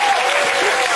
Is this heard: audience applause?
yes